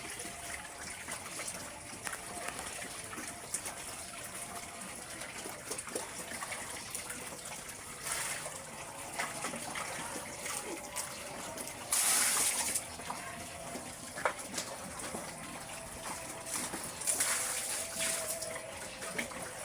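Water pours and runs steadily for a long stretch into a trough for pigs to drink, with a couple of louder gushing bursts partway through; no talking.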